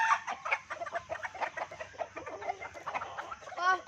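Fighting cocks cluck in quick, uneven bursts at close range, with overlapping calls and no talking.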